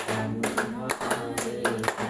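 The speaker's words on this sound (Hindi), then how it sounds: "हम सबको ताली बजा के बोलना है" A group claps hands in a steady rhythm while chanting at a religious gathering, the sharp claps landing in regular pairs under mixed voices and background music.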